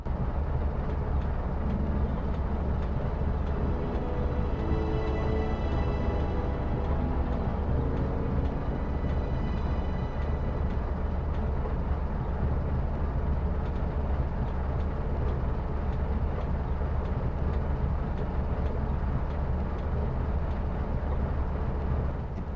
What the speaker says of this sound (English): The demo has you infiltrate a giant land train.